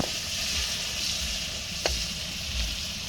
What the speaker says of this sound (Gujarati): શાક વઘારી દીધી છે.